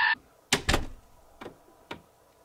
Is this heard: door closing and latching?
yes